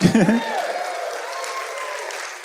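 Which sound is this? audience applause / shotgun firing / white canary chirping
audience applause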